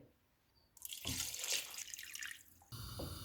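Water pours steadily from a tap into a cooking pot of rice and mutton for about two seconds, a rushing splash that stops, followed by a softer running flow.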